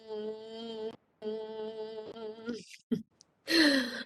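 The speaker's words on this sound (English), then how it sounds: "and exhale" Slow, deep breathing exercise: two long sustained exhales with a tonal hum, then a brief pause, a short catch of breath and a final breathy sigh, close and alone.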